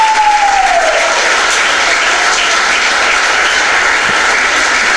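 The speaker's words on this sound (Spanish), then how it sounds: "Junta tus manos y aplaude la gloria." A church congregation applauds, a dense, continuous roar of clapping that fills the room, loud and steady throughout with a faint sliding tone at the start.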